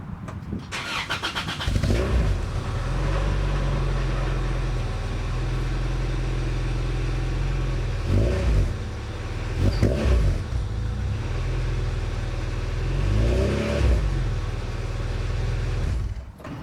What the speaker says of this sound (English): I'm gonna give it a cold start.